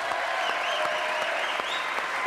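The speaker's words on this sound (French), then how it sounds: "Applaudissements pour ce jeune homme." Steady studio audience applause on a French television talk show, a dense continuous wash of many hands clapping close and loud throughout, with no talk over it.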